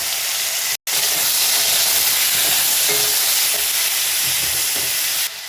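Tomatoes hit hot oil with dried chillies, fennel and fenugreek seeds for a tomato-tamarind chutney, giving a loud, steady sizzle and hiss that runs nearly unbroken, with one brief dropout near the start.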